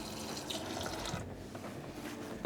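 Tap water running steadily into a cooking pot holding coconut milk in a home kitchen, a close, continuous splashing flow that ends abruptly with a short noise.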